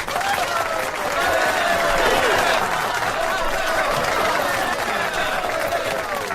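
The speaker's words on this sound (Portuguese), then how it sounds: "palmas então aqui, Genival, para Cecília Meirelles" Studio audience applause for a tribute to the poet Cecília Meireles: loud, continuous clapping that holds steady for several seconds, with some voices mixed in.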